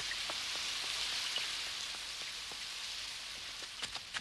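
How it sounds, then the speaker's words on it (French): Steady rain falls in a constant soft hiss, with scattered individual drops tapping distinctly throughout. "Et il pleut"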